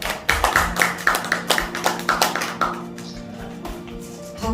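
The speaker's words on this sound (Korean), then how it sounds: "박수 부탁드리겠습니다." Audience at an appointment ceremony for a cultural foundation's press corps, giving brief applause of rapid, fairly close claps that fade out after a few seconds.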